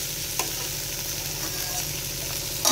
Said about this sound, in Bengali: এখানে কাঁচা লঙ্কা, কালো জিরে দিয়ে আলু ফুলকপি ভাজা হচ্ছে